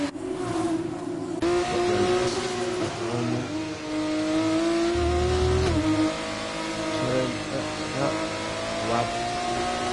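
Formula race cars roar around a Saudi Arabia street circuit in an F1 racing video game, engines holding a loud, high whine that shifts pitch as they accelerate and brake, with a commentator talking over the racing.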